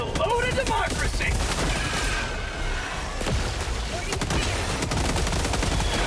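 The Sickle rifle in the video game Helldivers 2 fires in dense, continuous rapid bursts, and explosions and battle noise fill a loud, busy mix with game voices under it.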